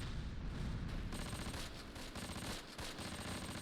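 Gunfire from the World War II tactics game Close Combat, with dense rattling bursts of machine-gun and rifle fire in a fight among Normandy hedgerows, loud and continuous with a few brief dips, and no voices.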